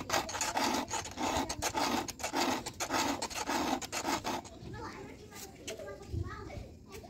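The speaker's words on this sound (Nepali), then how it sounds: "मैले रेती चाहिँ लगाइसकेँ होइन। तपाईँले प्रत्येक धार हेर्नुहोस्, यसरी सिधा पारेर लाउनुपर्छ" A hand file rasps along the chain of a Stihl MS382 chainsaw in steady, rhythmic back-and-forth strokes up close, then the filing fades as a voice speaks and children are heard in the background.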